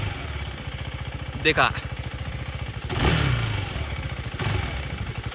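A KTM Adventure 390 (2025) motorcycle engine idles with a rapid, even putter, then rises in two throttle blips, heard close with someone speaking briefly over it.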